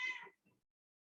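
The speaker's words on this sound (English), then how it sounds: "That's my cat, sorry." A domestic cat gives one short meow, close and fairly quiet, followed by a faint trailing murmur and then silence.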